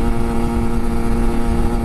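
A Kawasaki Ninja RR 150 two-stroke motorcycle accelerating, its engine giving a loud, steady, buzzing drone close to the listener.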